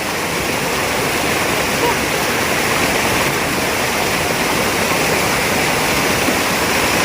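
Tukuran Falls waterfall in San Teodoro, Oriental Mindoro, a loud and steady roar of rushing water that fills the scene without a break, with people talking excitedly close by.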